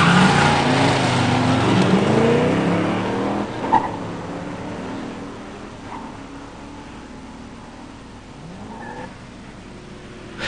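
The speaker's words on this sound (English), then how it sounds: "In the near lane, John Glasgow's 66 GTO 389 tri-power 4-speed. In the far lane, John Janitti's 87 Mustang 302 5-speed." A 1966 Pontiac GTO with a 389 tri-power and 4-speed and a 1987 Ford Mustang 302 with a 5-speed drag race at a pure stock event. Loud engines rev and wail through gear changes, then fade into the distance.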